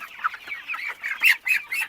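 Broiler chickens clucking nearby, a string of short, bright cackles and squawks growing louder toward the end, with no talking.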